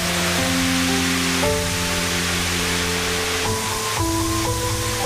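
Ion River waterfall in Israel's demilitarized zone, fed by a river rising in Lebanon, pours in a steady, dense broadband rush that fills the whole clip, with sustained musical tones layered over it.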